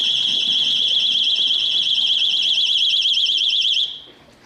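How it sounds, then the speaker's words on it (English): A piercing electronic alarm set off by lit HHO gas bubbles, a loud, steady high-pitched warbling tone held for about four seconds before cutting off abruptly. "Set off my alarm."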